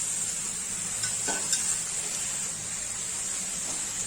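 Matar paneer pulao stirred in a pan after adding paneer, coriander and kasuri methi, a soft steady scraping and faint sizzle with one brief clink near the middle.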